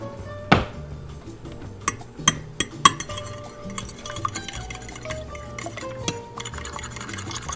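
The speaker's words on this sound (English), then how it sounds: "once you get 3 eggs in there, and whisk it up." Three eggs whisked in a bowl for chicken parmo: a steady run of light clinks and scrapes of utensil against the bowl, fairly close and unbroken by talk, opening with a sharper knock.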